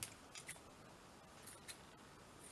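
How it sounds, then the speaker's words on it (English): Scissors snipping a small section of cheesecloth for a journal page embellishment, a few quiet crisp snips spaced apart over a soft background, close to the listener. "Cut a little section off"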